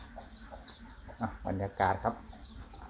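Chickens cluck and squawk close by on a Thai farm garden behind a house, with loud bursts of clucking midway while someone speaks quietly.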